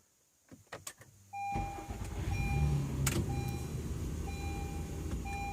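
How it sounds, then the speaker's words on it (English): Car engine cranking and catching during a battery test, after a few soft clicks and a beep, then settling into a steady idle with faint chiming beeps over it; no talk. "Now I'm gonna start the vehicle."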